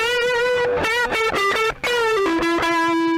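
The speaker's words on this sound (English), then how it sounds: "this is specifically designed to be a bass distortion" Bass guitar notes played through a Joyo bass distortion pedal, a gritty, fuzzy, sustained tone with a few held and shifting pitches, loud and close, with no talking.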